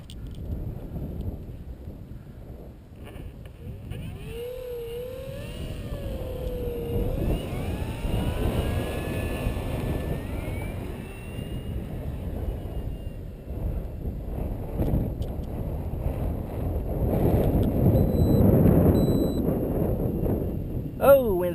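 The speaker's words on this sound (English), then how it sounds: "it's a pretty stiff wind" Stiff, gusty wind buffets the microphone with a low, uneven rumble that swells toward the end. The faint whine of a 1300 mm FMW Sbach 342 electric RC plane rises and falls in the distance, and voices talk now and then.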